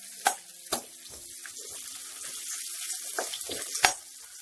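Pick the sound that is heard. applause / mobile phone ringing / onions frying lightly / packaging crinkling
onions frying lightly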